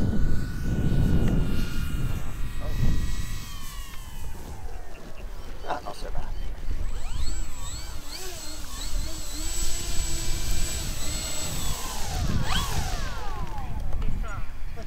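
Avios KingTwin 1700mm twin-engine RC model plane on its landing approach, a steady electric motor whine with shifting pitch sweeps as it passes nearby, mixed with wind and voices talking throughout.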